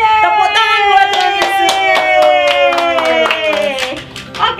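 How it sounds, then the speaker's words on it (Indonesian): Children at a kindergarten church service clap their hands in a quick, roughly steady rhythm while singing voices carry over the claps. "Tepuk tangan buat Tuhan"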